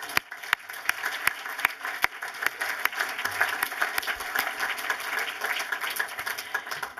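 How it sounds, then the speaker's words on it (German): A cinema audience at a film screening applauds the film team, a broad, steady patter of many hands building slightly in the middle, with a few sharp individual claps standing out near the listener. "Auch für die Teammitglieder bitte einen Applaus."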